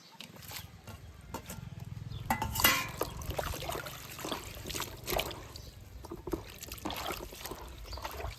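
Cluster beans (guar) washed in water for a Kathiyawadi sabzi, with close splashing, trickling and sloshing that swells around the middle, plus scattered soft handling clatter and no talk.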